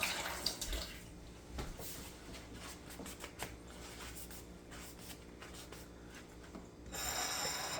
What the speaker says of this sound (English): let me rinse this off a little bit.